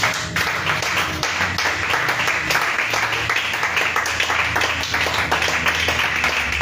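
A church congregation applauding in acclaim of Jesus, steady loud clapping from many hands with a rhythmic pulse throughout, filling the room without pause.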